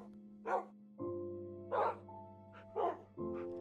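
Several dogs in the Minecraft video game bark in short sharp bursts, four yaps spaced across the clip over a sustained tonal background from the game.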